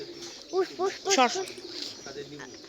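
Pigeons at a village house coo in a few soft, rounded calls while pecking at scattered feed, close by with low background noise.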